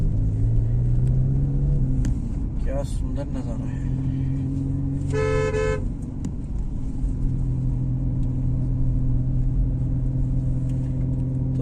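A car driving along a mountain road beneath a landslide, steady engine rumble and road noise throughout, with a brief horn toot midway and a person speaking briefly over it.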